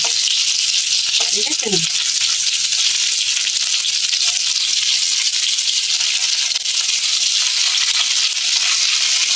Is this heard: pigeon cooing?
no